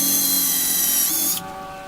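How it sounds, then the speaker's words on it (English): A power drill whines at high pitch for a moment drilling holes in wooden boards, then its motor cuts off and leaves a fading hum. "drill them with the drill, so that it'll make the installation a lot easier"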